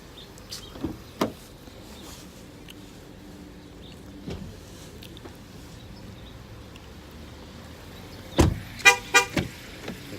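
A 2016 Ford Escape Platinum 4x4's door thumps shut, then its horn gives a few short, clipped honks nearby, warning that the key is inside, after quiet stretches with scattered clicks and soft mechanical sounds.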